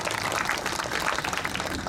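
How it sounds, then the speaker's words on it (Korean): Festival crowd applauding steadily and loudly at an outdoor traditional culture festival in Insadong, Seoul, a dense, continuous wash of many hands clapping with no pauses. "박수 한번 크게 보내주세요."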